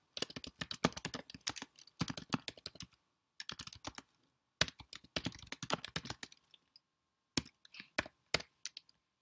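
Rapid bursts of computer keyboard typing as a short note is entered, loud and close, in several separate runs split by brief pauses.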